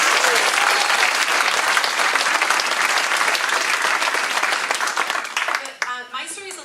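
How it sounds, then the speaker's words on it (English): A council meeting audience gives sustained, dense applause for a council colleague, loud and steady for several seconds before thinning out into scattered claps at the end. "And he deserves a round of applause."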